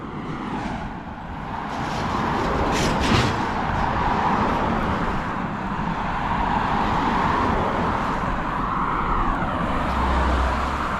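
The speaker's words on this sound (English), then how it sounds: "We've got a lot of traffic coming into town now." Steady road traffic rolls into the small town of Cann River, a continuous broad rumble of passing vehicles with a swell as one passes nearby, no talk.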